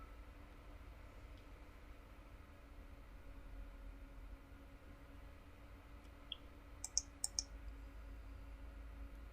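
A few quick mouse clicks while working in Siemens TIA Portal software on an S7-1200 PLC, a short close cluster of sharp taps over a steady low computer hum, with no talking.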